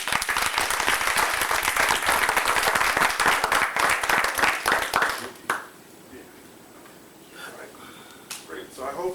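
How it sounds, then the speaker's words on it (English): Audience applause at a breakfast talk event rings out loud and dense for about five seconds, then cuts off, leaving a quieter room with a few scattered sounds. "you can have another round of applause"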